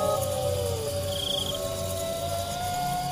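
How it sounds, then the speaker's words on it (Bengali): Crickets in a forest at night keep up a dense, continuous chirping trill, with a steady high whine layered over the close, unbroken insect chorus. "জঙ্গলে ঝিঝি পোকার আওয়াজ"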